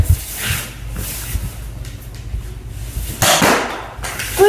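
Toy Nerf gun fired after being loaded and cocked, producing a sudden loud pneumatic whoosh and pop near the end, preceded by softer handling clatter.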